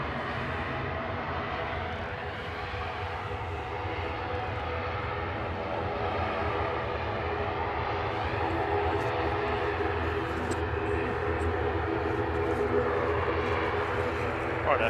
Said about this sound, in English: It's the BA shuttle headed back down to London Heathrow